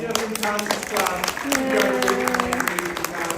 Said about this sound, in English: Well, give yourselves a big round of applause.